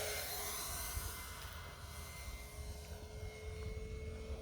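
A Durafly DH 100 Vampire RC jet plane on a 4S lipo flies by with a steady, continuous rushing engine drone at moderate distance, holding level without pauses.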